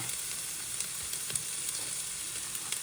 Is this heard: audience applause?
no